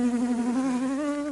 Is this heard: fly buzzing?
yes